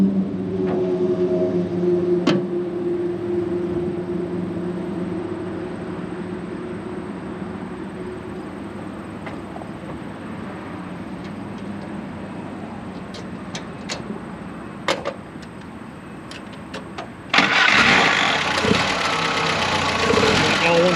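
A 1946 Willys CJ2A with its 134 cubic inch L-head four-cylinder runs at a steady, close idle with a low rumble for most of the stretch, then turns louder and brighter near the end as the revs rise.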